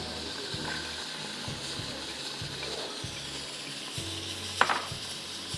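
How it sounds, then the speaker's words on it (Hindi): Chopped vegetables including potatoes, carrots and French beans sizzling in butter in a pot for minestrone soup, with a soft steady crackle, a low hum and a brief clink near the end. "अब हमको इसमें डालना है सारी सब्ज़ी मक्खन में।"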